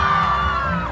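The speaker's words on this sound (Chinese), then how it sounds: "让我听到你们尖叫声好不好" A concert audience at a Dajia Jenn Lann Temple charity show screams and cheers on cue from a Taiwanese singer, a loud, dense burst of high-pitched crowd shouting that holds steady throughout.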